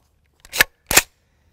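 Two sharp, close reports a fraction of a second apart from a 12.5-inch Palmetto State Armory .308 SBR rifle fitted with a JMAC Customs LAF muzzle device, then silence.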